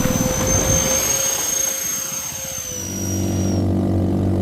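A modified CargoJet airliner's engines whine and roar on a runway in a flight video game, with steady high turbine tones over a broad rushing drone that shifts and eases partway through, with no voices.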